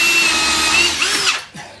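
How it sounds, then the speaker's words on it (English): A power drill whirs steadily at close range for over a second while pre-drilling a hole beside a roller door, then spins down and stops. "I'm gonna pre-drill further out to give me the clearance that I need"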